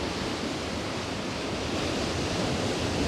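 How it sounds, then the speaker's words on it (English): Ocean waves breaking at Granite Bay, Noosa, a steady loud roar of surf and white water that fills the whole stretch without pause, no voices. "you can see some wave action there, and another one coming up behind it, and you see that white water down the front"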